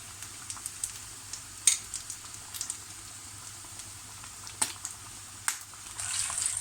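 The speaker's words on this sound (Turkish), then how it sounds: "Geri kalanı hepsini bu şekilde kızartacağım arkadaşlar" Quiet frying of stuffed meatballs (içli köfte) in oil, a faint steady sizzle broken by light crackles and pops, growing slightly louder near the end.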